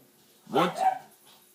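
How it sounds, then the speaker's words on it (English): Dogs barking near a home recording space. One short yelping bark rings out alone, fairly faint, with no talk over it. "swear those dogs will not shut up."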